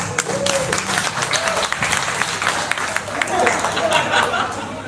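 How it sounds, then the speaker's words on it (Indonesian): Audience applause at a halal bihalal gathering, a loud burst of clapping with crowd chatter and some chuckling mixed in, swelling again toward the end while a voice speaks over it. "tepuk tangan untuk Mas Haji Pamuas"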